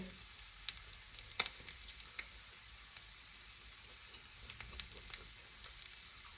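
Unseasoned pork sizzling on a Thai mu kratha grill, a quiet continuous hiss scattered with small sharp pops and crackles, close by with no talk.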